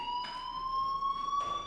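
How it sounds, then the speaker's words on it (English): A fire alarm in the video game Life is Strange rings as a steady, piercing electronic tone with several layered pitches. It holds unbroken throughout, with faint pulsing bursts rising over it. "Hey, do you hear that fire alarm?"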